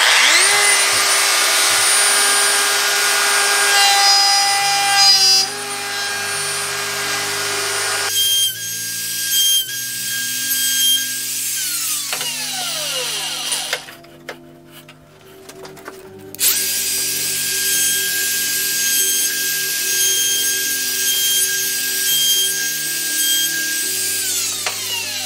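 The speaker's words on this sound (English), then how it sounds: "we're going to go ahead and just route out the tails of these dovetails" A router cutting dovetail tails in a wooden board with a Porter Cable dovetail jig, a loud high whine that rises and dips with each pass, briefly cutting out near the middle before resuming steadily.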